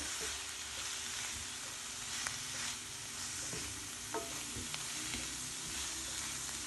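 Fenugreek leaves roast in a pan for malai methi matar, a soft continuous sizzle broken by several light spatula scrapes and taps as the greens are stirred, heard close and alone.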